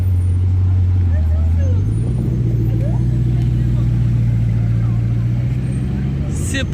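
Blue Lamborghini Performante sports car with a modified hood arriving on a street in Cannes, a low engine rumble that steps up in pitch and holds steady, close by, with people talking over it.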